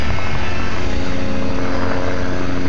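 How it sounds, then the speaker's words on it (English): Helicopters circle overhead above a tornado-damaged Tuscaloosa neighborhood, giving a loud, steady rotor and engine drone that fills the whole stretch without pause. "we have choppers circling"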